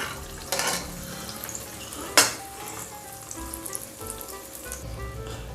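Chopped onion, tomato, ginger and garlic sautéing in a pan for beef nargisi kofta gravy, a steady close sizzle and fry with a few sharp clinks of a utensil against the pan.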